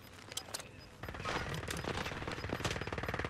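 Automatic gunfire in Warzone, faint scattered shots at first, then a sustained rapid burst of rattling rounds, fairly quiet overall with a little speech.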